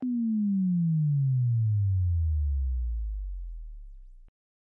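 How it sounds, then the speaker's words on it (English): A Dexed FM synth emulating the Yamaha DX7 plays a sine wave drop: one pure, loud tone sliding steadily downward in pitch for about four seconds before cutting off abruptly, with no other sound. "pretty usable for those kind of sine wave drop sounds just by programming this in"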